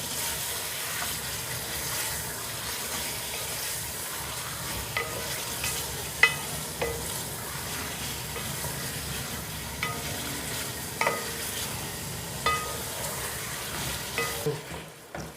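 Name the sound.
chicken frying in a pan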